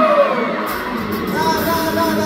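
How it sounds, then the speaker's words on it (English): A concert crowd screams and yells inside Oakland Arena during a 2024 UTOP1A tour show, a loud, sustained wall of whooping voices with no single speaker standing out. "Nah, Oakland, I wanna hear you scream!"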